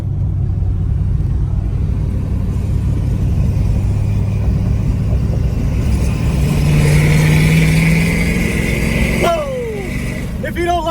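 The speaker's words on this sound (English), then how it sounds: "I want to hear freedom in this exhaust rattle against the side of that bridge" Truck exhaust roaring loudly and steadily as it passes under a bridge, with a low rumbling drone that swells mid-clip, then a rattling, squealing tail at the end; a voice talks over parts of it.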